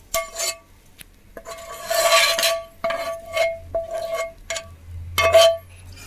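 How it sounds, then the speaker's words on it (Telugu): A metal spoon scrapes and clinks against a pot as fried tomato and onion go into cooked lentils and get stirred, giving irregular bursts of scraping and knocks with brief quiet gaps between. "దీన్ని ఎత్తి పప్పులో వేసుకోవాలి"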